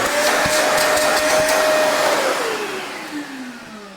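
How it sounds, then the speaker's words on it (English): A wet and dry vacuum cleaner motor roars steadily up close, then its whine slides downward in pitch and fades as it spins down and switches off. "it's all up and running and it's a fantastic vacuum cleaner"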